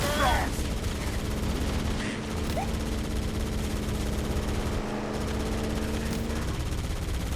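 Gunfire in a Halo firefight, with a burst of shots at the start giving way to a steady battle din and a low droning hum underneath while voices talk over it.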